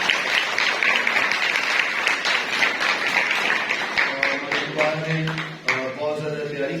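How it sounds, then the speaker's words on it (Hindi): Loud applause from a church congregation at a Palm Sunday Mass, steady dense clapping over several seconds with a few voices rising near the end. "तो आप सब अपने लिए जोरदार ताली बजाइए।"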